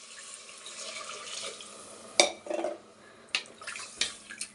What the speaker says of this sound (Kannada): ಈಗ ನಾನು 1 ಪಾವು ಅಕ್ಕಿಗೆ 1 ಚೊಂಬು ನೀರು ಹಾಕ್ಕೊತಾ ಇದ್ದೀನಿ